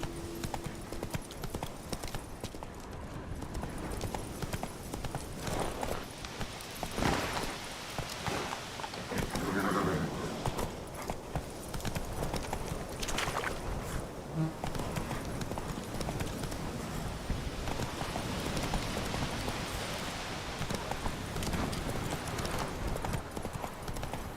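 Steady clip-clop of Roach, the horse in The Witcher 3, galloping along at a constant rhythm for the whole stretch, close and continuous, with faint ambient game sound beneath.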